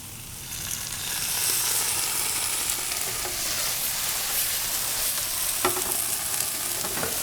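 Mushrooms and tomato sauce sizzle and fry steadily in a pan, a continuous close hiss with a few stirring scrapes near the end and no talking.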